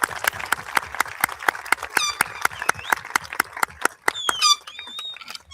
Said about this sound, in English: Let's give our families and staff a big round of applause.